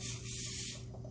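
Cooking oil spray hisses onto a tablespoon held over an empty can, one short continuous burst of soft airy spray, close and quiet with no talk.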